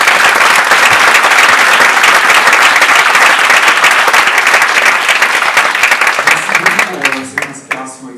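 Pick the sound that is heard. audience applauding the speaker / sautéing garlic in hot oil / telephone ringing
audience applauding the speaker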